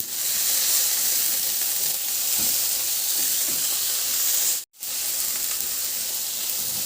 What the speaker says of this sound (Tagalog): Igisa ko na rin yung sibuyas. Maglagay na rin ako ng kamatis.